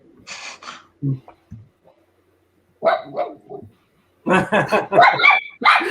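A dog barks and yips in short bursts, with whiny, vocal sounds between pauses, close to the microphone.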